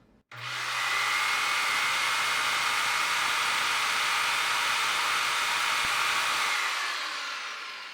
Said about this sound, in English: I'm going to be using this Makita jigsaw